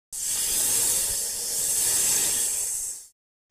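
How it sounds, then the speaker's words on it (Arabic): A snake hisses in one long, loud, airy breath lasting about three seconds, steady and close, then cuts off abruptly into silence. "فحيح الثعبان."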